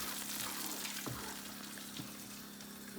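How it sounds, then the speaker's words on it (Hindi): Hot oil poured into chicken haleem, producing a continuous soft sizzle and bubbling hiss, steady and close, with a faint clink of a utensil. "अच्छा, अब मैं ऑयल इसमें डाल देती हूँ। ये तेल गरम हो चुका है"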